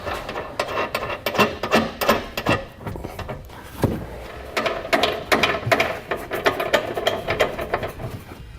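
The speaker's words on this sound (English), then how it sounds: "with an extra set of hands, we'll raise our hitch into position. And secure it in place with our flange nuts." A ratchet tightening flange nuts on a Curt trailer hitch fitted to a 2017 Chevrolet Equinox, rapid clicking pawl bursts in repeated strokes with short pauses between them, close and clear, no voices.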